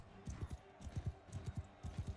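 A horse charging in a medieval video game, its hoofbeats coming as quick, steady groups of soft thuds, close and low in level, with no talk over them.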